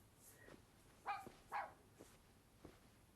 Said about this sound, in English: when did we get a dog?